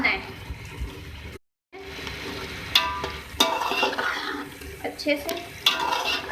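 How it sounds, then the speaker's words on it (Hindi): Aloo matar with yogurt frying in a pot while being stirred, a steady sizzle with clinks and scrapes of a spoon against the metal, a brief gap of silence, and someone talking over it. "दही डाल के आपने इसको भूनना है"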